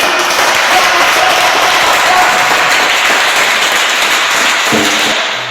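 Congregation at a church service applauding and cheering in acclamation of Jesus, a loud, dense, continuous wash of clapping and voices that fades slightly at the end.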